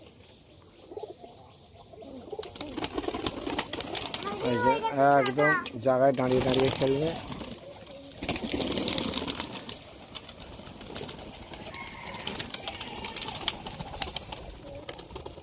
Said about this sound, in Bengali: খুব সুন্দর হাতেবাজি পায়রা আছে।